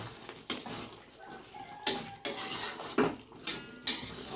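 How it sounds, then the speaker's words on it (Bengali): Spoon stirring Afghani-style soybean curry in a metal pot, a series of sharp clinks and scrapes at irregular intervals, close and moderately loud against a quiet background. "এই অবস্থায় আমি এটা আবার একটু নেড়ে দেবো"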